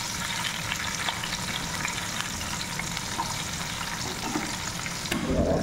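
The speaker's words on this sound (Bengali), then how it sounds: "আগে রসুন দিই, কারণ রসুন হইতে সময় লাগে" Garlic frying in a pan gives a steady, dense sizzle that runs unbroken throughout, close and loud, with a brief stir or shift near the end.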